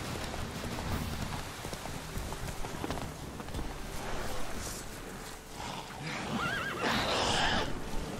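A horse in the video game The Witcher 3 gives a loud, shrill whinny near the end. Before it come steady hoofbeats and outdoor ambience, with game noise throughout.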